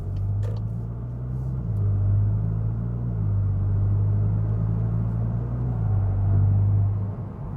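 A VW MK8 GTI fitted with an AWE exhaust pulls away gently in comfort mode, giving a low, smooth engine drone that rises and settles in pitch as it gains speed, with no pops or crackles and no talk.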